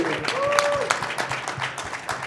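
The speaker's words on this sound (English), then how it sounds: "give one more round of applause" An audience claps and cheers at a horror convention panel in New Jersey, steady applause with scattered sharp claps, while a voice speaks over it and whistles or squeals rise briefly early on.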